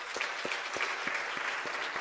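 An audience at a university honorary doctorate ceremony in a senate session applauds, a steady wash of many hands clapping with a faintly regular rhythm, filling the hall without voices.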